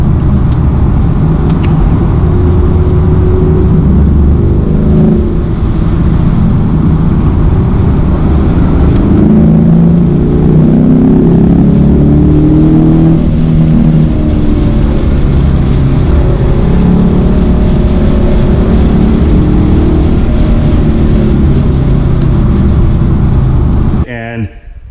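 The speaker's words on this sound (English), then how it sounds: "this is my buddy's 2019 Dodge Challenger SRT 392 Scat Pack wide body" A 2019 Dodge Challenger SRT 392 Scat Pack wide body idles and rumbles steadily for about twenty-four seconds, a loud, deep engine drone close by that cuts off abruptly at the end.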